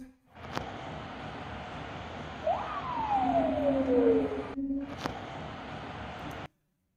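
Ambulance siren in wartime footage from Crimea, a single distant wailing tone that sweeps up then slowly falls, heard faintly over steady background noise with a couple of sharp clicks.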